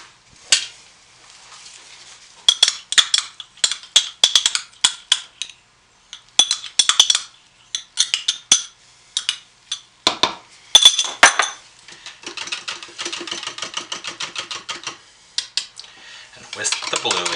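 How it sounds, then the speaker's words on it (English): Whisk clattering against the sides of a container while mixing soap batter with blue colorant, a fast series of close, sharp clinks in bursts with short pauses, then a steadier scraping rattle. "I'm going to whisk it in"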